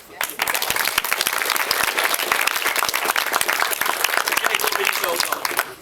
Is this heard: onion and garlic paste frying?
no